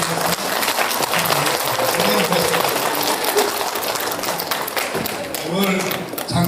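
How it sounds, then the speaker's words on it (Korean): An audience applauds steadily at a photography art forum during the Jeju Photo Art Festival's closing panel discussion, a dense, even patter of many hands lasting several seconds, with a voice talking over it. "우리 위원장님과 한 분 모두에게 큰 박수를 주셔서"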